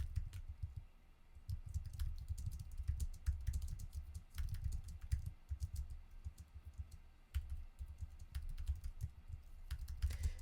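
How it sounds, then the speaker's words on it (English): Rapid, uneven clicking of keys on a computer keyboard, close and fairly quiet, with bursts and brief pauses over about ten seconds. "I'm sorry, I'm typing"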